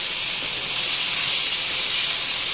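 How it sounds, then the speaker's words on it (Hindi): Chicken karahi roasting over a high flame, with the fire reaching up the pan; a loud, steady, close hiss of sizzling runs unbroken throughout, with no talking. "अच्छी तरह की आग आपकी ऊपर तक आ रही है, निकल रही हो, उतनी अच्छी तरह इसको आपको भूनना है।"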